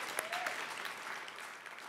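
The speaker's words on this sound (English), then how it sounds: "Round of applause for Patricia" Applause from the audience at a university science alumni achievement awards celebration, a steady, moderately distant wash of clapping that holds evenly for a couple of seconds.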